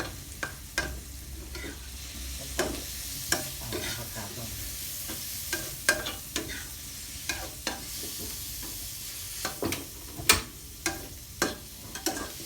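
Egg is stir-fried in a pan for a pickled mustard greens dish: a constant sizzle with sharp, repeated spatula scrapes and clicks at an irregular, busy rhythm, close up and with no talking.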